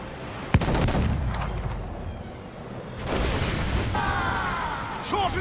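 Heavy ship mortar and cannon fire in Assassin's Creed IV naval combat, loud booming blasts with a sharp crack early on, surrounded by rumbling battle noise and shouted voices.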